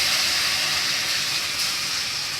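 Ground lentil paste with turmeric fries in hot oil tempered with nigella seeds and dried chilli, giving a continuous loud, close sizzling hiss without pause.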